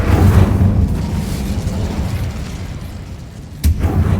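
The Incendio fire spell in Hogwarts Legacy goes off as a loud, low whooshing burst of flame that fades, then a second short blast hits near the end.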